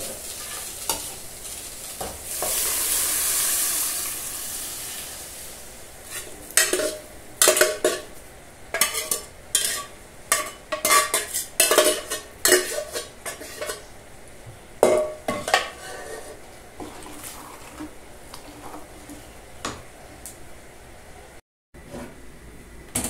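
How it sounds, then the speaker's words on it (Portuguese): Beans tossed into a hot pan while cooking lunch at home, with a sizzle followed by repeated scraping stirs of a utensil against the pot, moderately close and with no voices. "Agora eu vou jogar o feijão."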